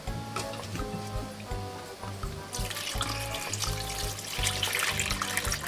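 Milk pours steadily into a plastic box for homemade keto Greek yogurt, a continuous trickling splash that grows brighter and fuller partway through, close by with no talking.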